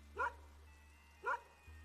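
Max the dog barking in the indie horror video game Terror at Oakheart, two short clear barks about a second apart over a faint low hum.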